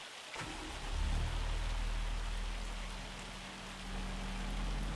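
Steady rain falls across a Farming Simulator 25 farm while agricultural machinery such as fertilizer and lime spreaders is tested, a dense continuous hiss with a low rumble underneath, fairly loud and unbroken, with no talking.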